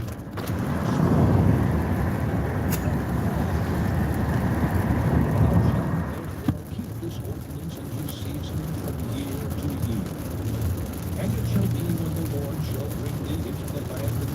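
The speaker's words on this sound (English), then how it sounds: "Now it's raining." Rain falls outdoors as a dense, steady hiss for about six seconds, then thins to a softer patter with faint low rumbling and background sounds.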